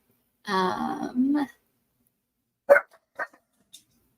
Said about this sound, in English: he's here for dinner, and Luke is going to bark at him